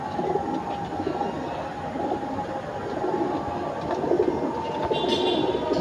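An imported female pigeon with feathered feet coos amid a noisy, rumbling background like a passing train, the soft calls continuous and partly masked.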